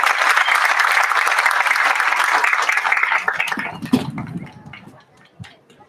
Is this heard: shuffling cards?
no